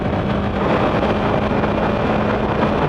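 A Yamaha YZF-R3 motorcycle engine pulls hard after a downshift while riding, a steady close droning roar with wind rush running through the whole stretch.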